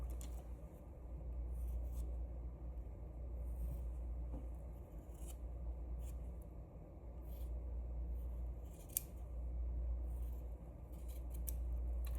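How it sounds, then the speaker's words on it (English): Scissors fussy cutting fabric, a soft repeated snipping and scraping of blades close by, quiet and steady over a faint background hum. "I need to fussy cut it down a little bit more."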